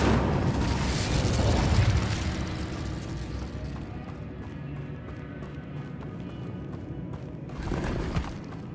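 A burst of fire-spell casting in Hogwarts Legacy, a loud rumbling whoosh at the start that fades into a lower crackling tail, with a second swell near the end.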